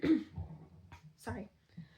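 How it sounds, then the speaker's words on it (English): A woman clears her throat in a few short, rough bursts, close and fairly quiet, with brief pauses between them. "had to go clear my throat"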